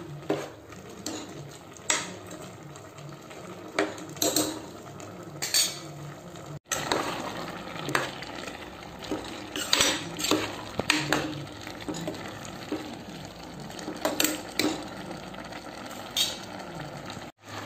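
A metal spoon stirring an ivy gourd and chickpea curry in a pan, with repeated clinks and scrapes at an irregular rhythm over a soft simmering bubble, close and moderately loud.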